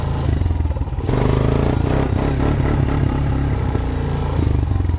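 A Honda Recon ATV engine while riding, a loud, close, steady mid-pitched drone with clattering mechanical texture and slight shifts in revs throughout.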